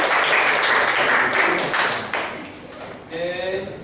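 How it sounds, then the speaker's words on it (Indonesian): Students in a classroom clap together in a sustained burst of applause, loud and dense, tapering off toward the end, with voices mixed in. "Oke, tepuk tangan untuk kalian."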